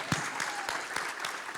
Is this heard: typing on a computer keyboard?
no